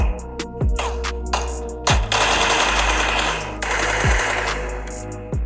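PUBG game gunfire plays as rapid automatic bursts, several quick strings of shots with short gaps, fairly loud and up front, with no talking over them.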